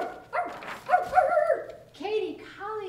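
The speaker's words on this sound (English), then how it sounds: "Then we heard a bark from the shore." A dog barks in a series of tonal, yelping barks, fairly close and clear, spaced across the moment with short pauses between calls.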